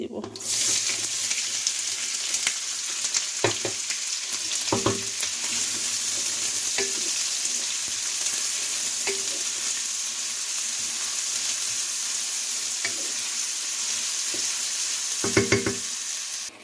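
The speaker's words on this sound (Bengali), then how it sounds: "আমি আস্ত মশলাগুলো দিয়ে দিয়েছি এখন এ পর্যায়ে পেঁয়াজটা দিয়ে" Onion frying with whole spices in oil for a meat curry, a continuous crackling sizzle with intermittent clacks of a stirring spoon against the pan.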